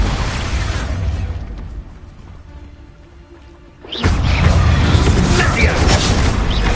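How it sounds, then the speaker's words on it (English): A loud blast goes off in the Hogwarts Legacy video game at the start, its roar falling away into a quieter lull before a second heavy burst of crashing combat sound takes over and keeps going. "Explosion!"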